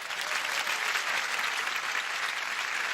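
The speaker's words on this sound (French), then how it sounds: "Je voudrais qu'on les applaudisse encore très fort" A theatre audience applauds comedians on a French television variety show, a steady, dense wash of clapping that fills the whole stretch at an even level with no voices standing out.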